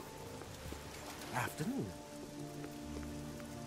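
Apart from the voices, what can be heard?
rain falling in the video game Oblivion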